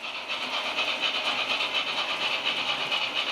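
Analogue model railway locomotives running round a layout track, a steady close hiss with a faint rolling clatter throughout, no voices.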